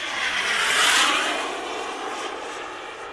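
A radio-controlled MB-339 model jet powered by a LintonJet X80DX turbine flies past at partial throttle, a loud broadband turbine whoosh swelling to a peak about a second in, then easing off as it moves away, with no talk.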